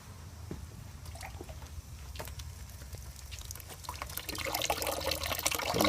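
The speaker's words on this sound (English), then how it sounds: "So we see now that our cold water is now flowing from this bucket into right here." Cold water flows from one bucket into another in a small temperature and level control setup. It trickles and drips quietly, with scattered splashy ticks, and swells into a fuller pouring sound near the end.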